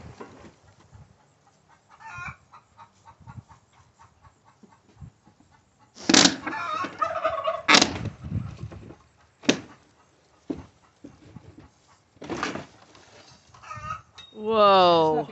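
Chickens in a small barn clucking and squawking nearby, with scattered loud sharp calls, a rising rooster-like cry near the end, and voices talking in between.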